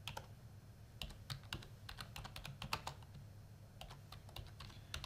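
Fingers type a company name on a computer keyboard, a quick irregular run of close, soft key clicks with brief pauses and no talking.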